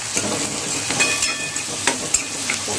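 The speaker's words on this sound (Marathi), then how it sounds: "त्या कांद्याला आता चांगला आपल्याला कलर येईपर्यंत आपल्याला चांगला तेलामध्ये फ्राय करून घेऊया" Chopped onions frying in oil in a pan, a continuous crackling sizzle with a few sharper pops and stirring scrapes close by.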